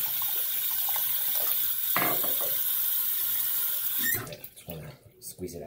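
Tap water running over a shaving brush at a sink, a steady hiss for about four seconds that cuts off abruptly and is followed by a few short clattery handling sounds.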